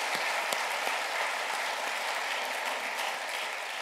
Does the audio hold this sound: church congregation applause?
yes